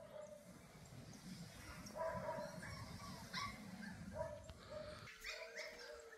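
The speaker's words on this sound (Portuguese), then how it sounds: "Minha esposa tratando dos cachorros." Several dogs bark, yip and whimper at a distance at a kennel, short bursts scattered over a quiet outdoor background.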